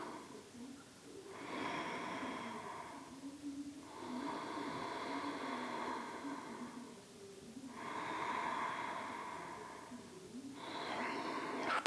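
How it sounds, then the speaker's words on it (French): Slow, deep yoga breaths flow in and out through the nose in long, even cycles, each inhale and exhale lasting a few seconds, soft and close in a quiet room. "Permettez à la respiration de devenir plus profonde."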